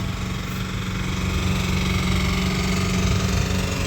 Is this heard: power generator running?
yes